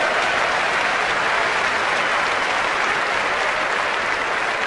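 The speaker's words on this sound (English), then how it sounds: "Give her a round of applause, all right?" Audience at a motivational talk breaks into dense, loud applause, a continuous full roar of clapping from a large crowd with no pauses and no voices over it.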